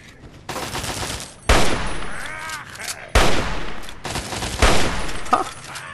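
Gunfire in the Fallout 3 video game: several sharp, loud shots and short bursts with ringing tails, spaced across the stretch, over quieter game ambience.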